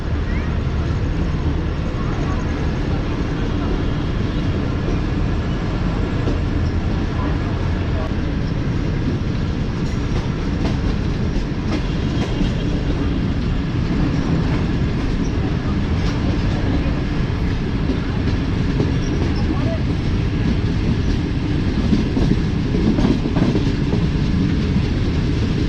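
A train rolls into a Gujarat railway station in the dark, its broad rumble steady and loud for the whole stretch, with a voice talking over it.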